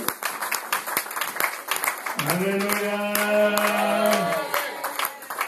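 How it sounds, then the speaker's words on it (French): Church congregation at a Paris convention applauding for the pastor, dense clapping from a crowd throughout, joined midway by a sustained sung or shouted voice rising over the applause before it fades back to clapping. "Est-ce que nous pouvons applaudir pour le pasteur parce que c'est un spécial?"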